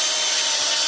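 Fine-grit sandpaper rubs over wooden blanket-loom dowels in a continuous, close, loud hiss, with no talking.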